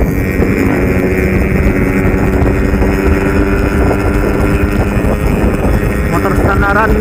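A stock Yamaha RX King motorcycle engine runs at a steady idle, a continuous low throbbing drone close by, with someone talking over it.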